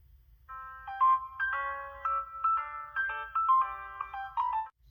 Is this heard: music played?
yes